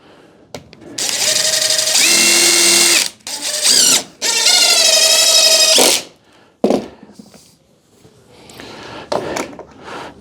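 Power drill driving screws while framing a small stair header, in long loud whining bursts that rise in pitch, with short pauses between runs and lighter handling clatter toward the end.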